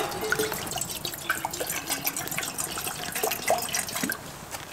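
Water poured into a pot for a water bath over an outdoor campfire, with faint trickling, dripping and splashing sounds throughout, moderately quiet and without voices.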